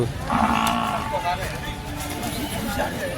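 Buffalo at a Sunday buffalo market at Chilpur Gutta, with a low lowing call early on amid a busy crowd hubbub and close speech throughout.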